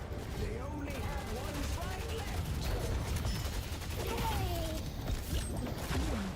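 Rapid bursts of gunfire from the Express Shot weapon in a video game, dense and continuous over a steady backdrop of game effects, with no voices.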